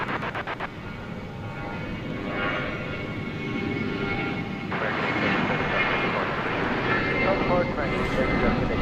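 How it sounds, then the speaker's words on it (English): An American Airlines Airbus A321 arriving from Denver approaches DFW Airport, a steady jet rumble that grows gradually louder beneath a person talking. "Flight 2078 American Airlines coming in from Denver on an Airbus A321"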